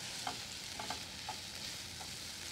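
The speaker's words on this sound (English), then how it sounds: "let's give our prosciutto a quick stir" Prosciutto crisping in a pan for spaghetti carbonara sizzles steadily while a utensil stirs it, giving a few light scrapes and taps over the constant frying hiss.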